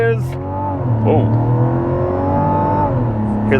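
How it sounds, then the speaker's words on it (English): A 2024 Mazda CX-90 Turbo S with traction control off in sport mode accelerates hard from a launch, its turbocharged engine climbing steadily in pitch and staying loud and close, with a brief voice near the start. "Hear the turbo on the top end."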